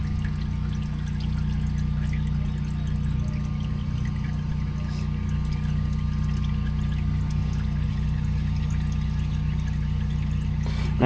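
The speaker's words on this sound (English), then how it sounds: "But once we get this drained out, I'll show you the oil filter also." Steady, close trickle of old engine oil draining out of a car left sitting about 20 years, a continuous pouring stream over a low hum with no talk.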